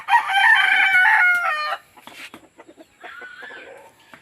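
A rooster crows loudly and close for nearly two seconds, then scattered chicken clucks and a fainter crow follow among a flock of hens and several roosters.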